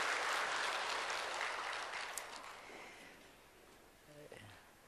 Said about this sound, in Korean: 우리 하나님께 영광의 박수로 함께 드리겠습니다